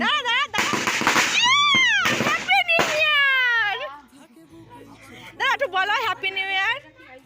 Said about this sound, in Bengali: বাজি ফোটানোর প্রিপারেশন চলছে